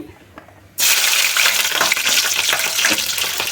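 Green chillies drop into hot oil, which bursts into a loud, sudden, sustained crackling sizzle that stays strong and close throughout.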